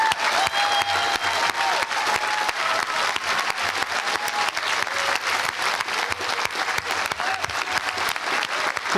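Sustained applause from an audience at a school prize day award ceremony, steady dense clapping that fills the whole stretch without pause, honoring a retiring staff member receiving a service award.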